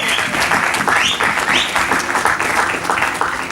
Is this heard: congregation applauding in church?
yes